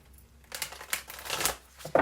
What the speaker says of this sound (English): Okay, shuffle again.